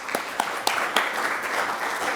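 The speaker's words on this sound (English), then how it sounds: "Another round of applause." A conference audience applauds after a power system dynamics talk, a few sharp early claps swelling into a steady, moderately loud round of clapping from the room.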